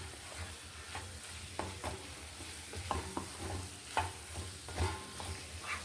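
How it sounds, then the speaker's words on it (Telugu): Potato curry is stirred in a pan over a soft, quiet sizzle, with repeated spoon scrapes and clinks at an uneven pace. "కలిపేసుకుందాం."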